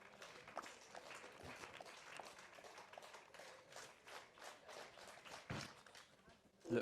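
Spectators at an athletics meet at Lee Valley Athletics Centre clap steadily in support of a long jumper on the runway. The claps are faint and distant, with voices underneath.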